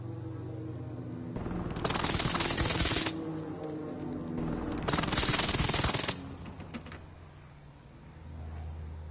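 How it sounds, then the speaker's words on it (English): A precision airstrike in a video game, two long roaring bursts of rapid gunfire and blasts, loud and dense, separated by a short lull and fading into rumble. "Allied precision airstrike incoming."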